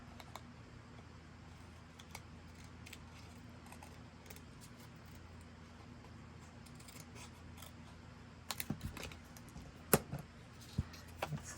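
Scissors trim a paper hinge for a small tunnel-book card with a few quick, close snips near the end of a quiet stretch. No one speaks.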